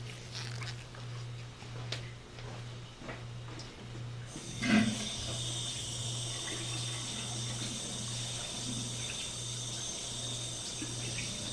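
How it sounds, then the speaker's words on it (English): Lamprey specimen gently rinsed under a running sink faucet, a steady hiss of tap water starting partway through and continuing to the end, with a brief splash near its onset and a low electrical hum throughout. "I'm going to actually take this over to the sink, and I'm going to very gently rinse it off"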